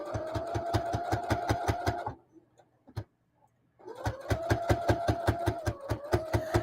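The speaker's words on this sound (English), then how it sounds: "So I'm sewing nice and slow." Sewing machine stitching a keyfob at slow speed, an even train of rapid mechanical ticks that stops for a couple of seconds with a single knock, then resumes at the same rhythm, close and with no speech.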